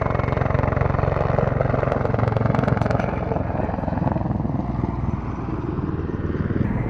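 An Mi-8 Hip helicopter arrives at the Duxford Battle of Britain air show, its loud, dense rotor thump and turbine roar sustained throughout and easing slightly toward the end.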